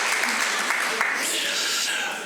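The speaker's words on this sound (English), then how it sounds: "Give them a round of applause, lads" Audience applause at a live awards ceremony, a steady broadband wash of clapping held at even loudness throughout, with a few sharper individual claps standing out near the start.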